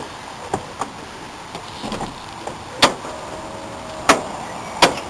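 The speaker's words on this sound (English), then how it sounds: "electric lock there, it shuts itself" A Mazda Bongo Friendee van door pulls itself shut under an electric lock, producing a few soft, quiet clicks and mechanical latching thumps against a low background hush.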